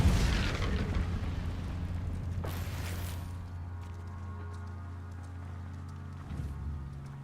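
An Incendio fire spell cast in a Harry Potter video game: a sudden whooshing burst of flame midway through, over a low rumbling game soundscape.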